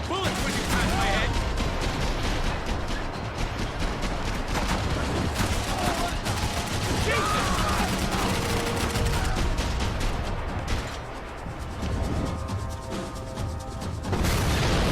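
Sustained gunfire and bullets whizzing past in the Max Payne 3 video game, a dense, continuous barrage of shots and impacts that carries on for the whole stretch.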